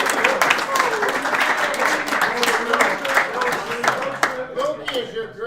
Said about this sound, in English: Everybody give a good round of applause.